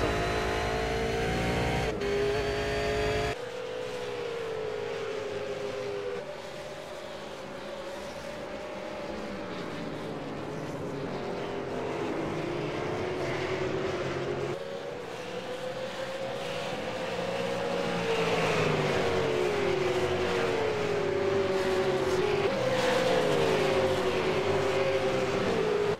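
V8 Supercar race cars lap Watkins Glen, engines revving and wailing as they shift gears, one car passing near and loud, then several pitches weaving together as more cars go by.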